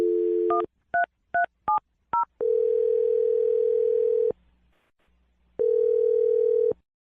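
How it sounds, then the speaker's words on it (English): Telephone keypad tones beep in a quick series of short paired pitches, then a steady dial-type tone sounds twice with a brief gap between, loud and close with no talking. "I'm dialing the phone number now."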